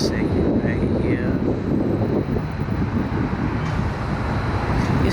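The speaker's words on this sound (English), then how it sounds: "It's hella windy out here too." Strong wind buffets the microphone outdoors in New Orleans in a continuous low roar that never lets up.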